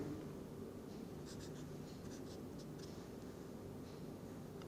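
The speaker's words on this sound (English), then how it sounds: "Let me write the MO diagram." Pen or chalk strokes scratching out a molecular orbital diagram by hand, a series of short faint scribbles over a steady background hiss.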